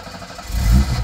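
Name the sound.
old Japanese car engine starting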